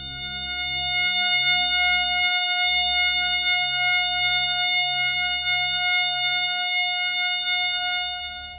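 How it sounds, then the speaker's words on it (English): A synthesized F sharp major chord holds as a steady, sustained tone of stacked pure pitches with a low pulsing hum beneath, loud and unbroken for several seconds, swelling in and fading slightly at the end, with no voice. "another F sharp major chord that sounds like this"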